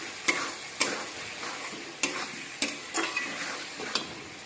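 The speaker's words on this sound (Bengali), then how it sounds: "তারপরে একটু নাড়াচাড়া করব।" A spoon or spatula stirs fried fish and fried potatoes in a sizzling pan, six or so distinct scraping strokes at a steady rhythm over a soft continuous sizzle, close and clear with no talking.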